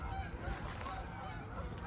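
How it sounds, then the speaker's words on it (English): A flock of geese honks in the distance, their calls faint and repeated over a steady outdoor background hiss with no talking. "Thought I'd let you hear the geese."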